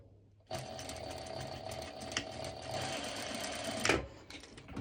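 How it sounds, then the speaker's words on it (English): A sewing machine runs a straight stitch over a bikini strap, starting abruptly and whirring steadily and close for about three seconds before stopping, followed by faint handling noise. "And I'm going to do a straight stitch over."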